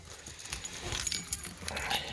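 A set of car keys jangles and clinks in a brief, irregular burst close by, with light metallic rattles scattered across about two seconds and no talking.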